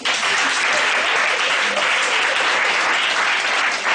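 A church congregation applauds in a large crowd, dense continuous clapping that stays loud and steady throughout with a few voices mixed in.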